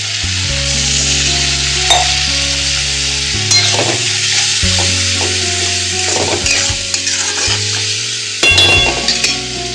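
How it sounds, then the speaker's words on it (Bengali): Water poured into spice paste cooking in a pan, bringing a loud, steady sizzle and bubbling that fills the whole stretch, with occasional clinks of a utensil against the pan. "এখন এই মশলা সেদ্ধ করার জন্য আমি এতে হালকা একটু জল দিয়ে দেবো"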